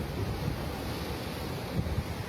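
Big ocean waves rolling in at Seger beach, Kuta Lombok: a steady, fairly quiet wash of surf mixed with wind buffeting the microphone.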